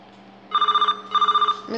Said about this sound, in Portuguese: Meu telefone.